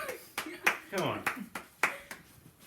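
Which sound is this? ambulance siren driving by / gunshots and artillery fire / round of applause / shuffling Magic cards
round of applause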